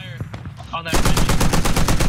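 Gunfire in the video game Squad: a few scattered shots give way to a sustained automatic burst of rapid, loud, close rounds in a steady rhythm.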